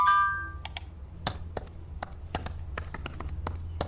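Simulated break-in to a business's computer systems, a sparse series of sharp clicks and taps like keystrokes over a low hum, opening with a short electronic tone, no voices.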